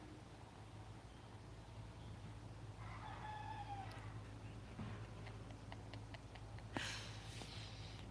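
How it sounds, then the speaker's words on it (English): A rooster crows faintly in the distance over a steady background hum, followed by a few small ticking and clicking sounds nearby. "you can hear the rooster next door"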